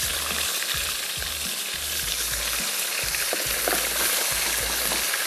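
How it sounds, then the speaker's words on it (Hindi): Chicken frying in hot vegetable ghee for frontier chicken masala, a loud, dense, continuous sizzle close up with a low pulsing rumble beneath it. "चिकन डाल के फ्राई करेंगे।"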